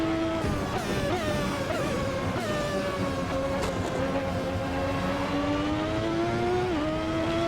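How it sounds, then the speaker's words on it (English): A Ferrari 643 with a V12 engine in a racing sim game, howling smoothly at high revs with clear rising and falling pitch through gear changes, loud and continuous with no talk. "In terms of the engine, it is a V12, of course, and because of that, it is very smooth."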